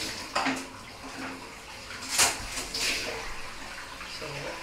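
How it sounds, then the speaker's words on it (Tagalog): Water runs into a hot tub, a steady rushing stream with a few louder splashy surges while a voice talks over it. "Pundot ako ng tubig."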